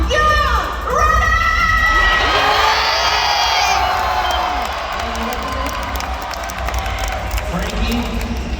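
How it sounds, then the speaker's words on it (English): A stadium crowd at a Fortnite FNCS Pro-Am event cheers and roars, loud shouts and high whoops swelling early then settling into a sustained buzzing roar with excited voices throughout. "Oh my gosh, you already heard this crowd roar."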